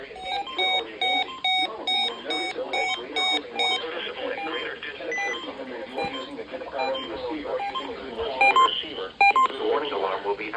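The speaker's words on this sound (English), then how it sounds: "The warning alarm will be activated for warning alarm will be activated for station KHC27" A weather radio emergency alert sounds on station KHC27 near Rock Hill. Repeated electronic beeps and tones come in short bursts over a continuous broadcast voice, heard clearly and fairly close.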